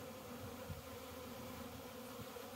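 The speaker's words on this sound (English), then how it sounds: "they're doing all kinds of orientation flights out of this other hive" Honeybees flying around a hive on orientation flights, a faint, steady outdoor buzz of many insects with no voices.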